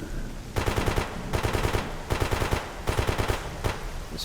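Bursts of automatic gunfire from an enemy firing blind in the video game Escape From Pripyat, arriving in four rapid rattling volleys with short gaps between them, fairly distant and without speech.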